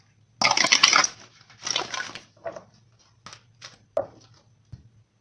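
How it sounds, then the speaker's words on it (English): Tarot cards are shuffled close by in several bursts of riffling and flapping, the first two long and loud, then shorter taps and snaps, with no talking. "One more shuffle"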